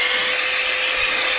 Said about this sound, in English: I'm going to give it a blow off with a little vacuum cleaner